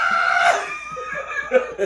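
A person voices a shrill, startled scream in imitation of someone being frightened, loud and brief, followed by softer breathy laughing sounds.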